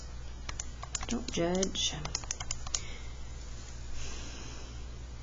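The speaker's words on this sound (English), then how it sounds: "I'm recording myself type something." Clicky keystrokes on a computer keyboard in irregular bursts, close and moderately loud, with a short spoken remark and a sniff partway through.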